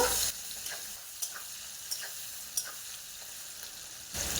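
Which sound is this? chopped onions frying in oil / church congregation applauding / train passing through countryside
chopped onions frying in oil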